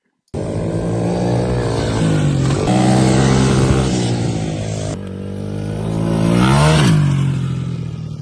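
Kayo KT50 pocket motorcycle engine revving up loud and close, its pitch climbing over several seconds, then easing off and rising again in a second strong acceleration, with no talking.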